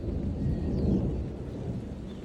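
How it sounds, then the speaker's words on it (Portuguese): Rumbling thunder rolls through steady low noise of rain under an overcast sky, a continuous close wash of sound with no talking. "Tá trovejando muito e o céu tá muito nublado."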